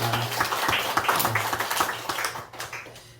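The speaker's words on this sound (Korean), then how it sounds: "환영의 박수하겠습니다" Church congregation clapping together in welcome during a Korean Sunday worship service, a dense round of hand claps that stays strong, then thins and fades toward the end.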